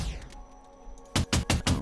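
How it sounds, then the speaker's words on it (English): Several sharp gunshots in the first-person shooter Discoverie go off in quick succession near the end, loud and close, after a quiet stretch of low ambient hum. "Okay, so we'll shoot these guys"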